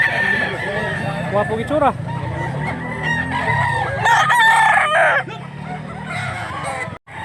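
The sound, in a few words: rooster crowing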